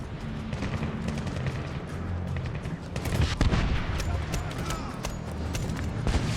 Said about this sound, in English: That is a grenade.